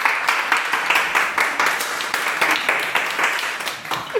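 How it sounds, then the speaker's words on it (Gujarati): Several people clap together in a jewellery shoot studio, a steady patter of hand claps with no voices over it. "તાળીઓ તો પાડો યાર"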